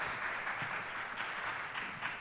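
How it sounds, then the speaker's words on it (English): Steady audience applause for the lead teacher coordinator at a county high school chorus concert, a dense even patter of many hands clapping throughout, moderately loud with no voices over it. "let's applaud for Ms. Cash"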